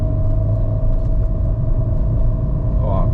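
A Chevrolet Spin's small engine pulls steadily at low rpm, a continuous, loud droning rumble with a steady tone and no break.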